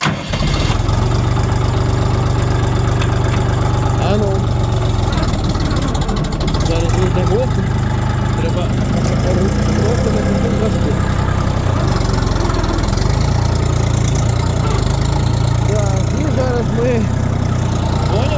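A Kentavr 244 tractor's heavy engine idles and revs up with a deep, throbbing rumble that carries on throughout, with voices talking over it.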